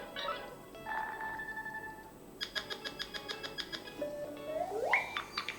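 A ringtone plays on an Android phone: a quick run of evenly pulsed electronic beeps, then a rising synthetic sweep, fairly close and clear over a quiet room hum, with no speech.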